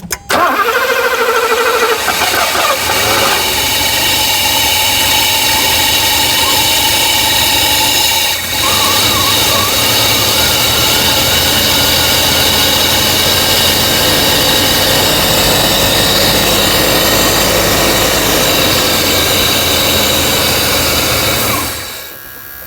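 An abandoned pre-merger AMG car that sat for 27 years cranks and catches, its engine firing up loud and close, then settling into a steady, slightly uneven idle before cutting off near the end.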